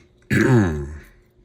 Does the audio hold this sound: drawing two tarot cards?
no